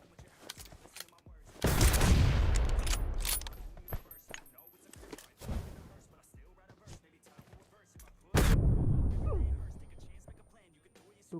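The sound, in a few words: gunfire in the video game PUBG Mobile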